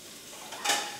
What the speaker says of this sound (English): frying up the bacon